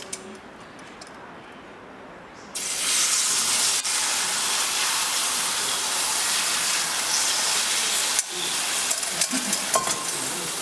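Oil hits a hot Eurostoves Culinarian griddle and erupts into a loud, steady sizzle that continues without a break, with a few faint ticks and scrapes near the end and no voices.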